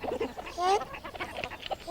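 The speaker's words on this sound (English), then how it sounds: "I wish to hatch my own eggs. I will hatch them all by myself," quacked Jemima Puddle-Duck" A storybook duck quacking, a short run of nasal honking calls mixed with clucky fowl-like notes, close and fairly loud, with no talking over it.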